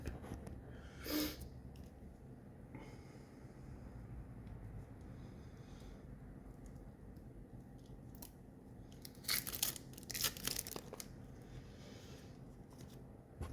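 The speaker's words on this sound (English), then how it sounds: "Let's see if I can get these cards open." Card packaging for the board game Old King's Crown is torn open, giving faint crinkling and tearing. One short rip comes early, then a cluster of rustling tears follows later over a quiet background.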